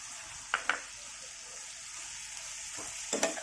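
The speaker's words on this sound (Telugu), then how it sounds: "ఇప్పుడు ఈ పచ్చిమిరపకాయలు వేసుకోవాలి." Green chillies hit a hot pan of smashed tomatoes for buttermilk curry, giving a steady close sizzle with a few sharp clinks of a spoon stirring against the pan, no voices.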